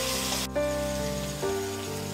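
Onions frying in oil in a pan for Bengali chicken kosha, giving a steady close sizzle with faint background hum, no talking.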